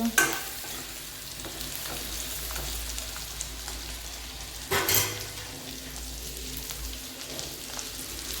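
Gunda (glue berry) pickle sizzles steadily in a pan while a spoon stirs and scrapes through it, with one sharper scrape midway; no voices.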